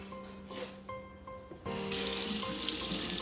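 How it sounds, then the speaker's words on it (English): Water runs steadily from a kitchen tap as hands are washed beneath it, a soft trickle that turns into a louder, fuller splashing gush halfway through, after avocados are scooped out. "Always wash your hands just because it's gross."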